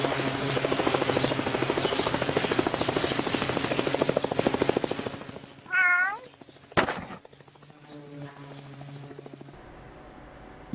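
A steady, loud helicopter rotor chop goes on for about five seconds in an AI-generated helicopter cat video, then a cat's meow, a sharp bang and a softer mewing to close.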